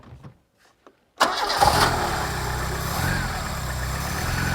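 An 80s hot hatch barn find fires up abruptly after a few faint clicks and settles straight into a steady, smooth idle, loud and close, with no voices over it.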